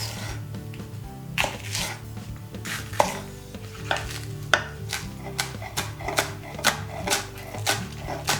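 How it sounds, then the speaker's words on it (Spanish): A knife chops vegetables, including a stalk, on a board for tomato sauce, with close, crisp strikes that start sparse and settle into a quicker, steady rhythm. "vamos a empezar por picar las verduras"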